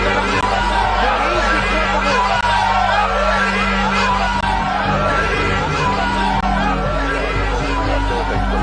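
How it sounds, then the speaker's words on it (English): Large crowd massed outside a hospital, a dense, continuous babble of many voices with rising shouts and whoops, steady and loud throughout like a news recording of a rally. "Outside the hospital, the crowd began to chant"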